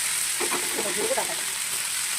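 Vegetable stems and garlic fry in mustard oil with a steady, loud hiss, and a brief murmur of a voice rises over it early on.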